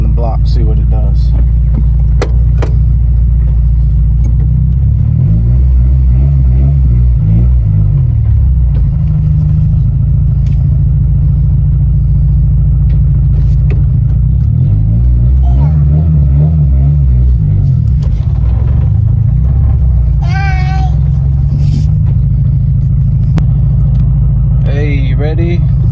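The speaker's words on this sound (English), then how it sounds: "we're gonna go for a little drive around the block, see what it does" A car fitted with a Jack Spania high-flow adjustable catalytic converter drives around the block, its engine rumbling low and rising in two broad revs, with people talking inside the cabin over the drone.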